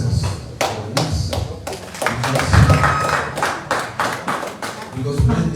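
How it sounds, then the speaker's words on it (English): Scattered clapping from an audience at a Nigerian Union of Journalists South-South media retreat, sharp irregular claps and taps heard close under a man's continuing speech. "We should applaud ourselves for this"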